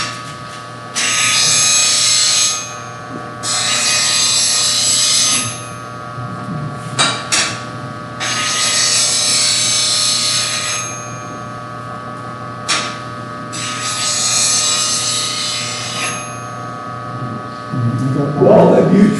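A bench grinder sharpens a woodturning tool in bursts of gritty, high grinding, several passes of a few seconds each separated by quieter running hum, with brief voices and handling sounds between them.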